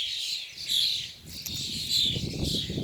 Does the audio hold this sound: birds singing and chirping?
yes